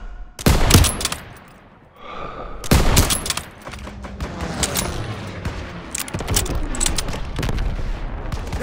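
World War II battle gunfire in Call of Duty plays as bursts of loud machine-gun and rifle fire, with a sudden blast, a quieter gap, then sustained rattling volleys and distant shots.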